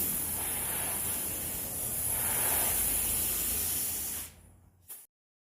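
A spray gun lays the first coat of paint onto a Toyota Tacoma door as a steady, close hiss that holds for about four seconds, then cuts off, followed by one short final burst.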